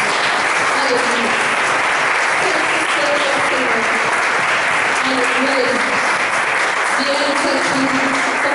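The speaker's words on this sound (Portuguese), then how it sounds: "Aplauda o nosso Deus por tudo." A church congregation applauds during a worship service, a loud, continuous wash of clapping that lasts throughout, with voices rising over it in places.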